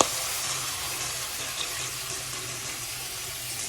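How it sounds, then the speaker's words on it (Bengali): Broth poured into a simmering bean curry in a pan, a steady broadband pouring and sizzling wash that holds evenly throughout at moderate level, with no talk. "এখন আমি পরিমাণ মতো ঝোল দিয়ে দিব।"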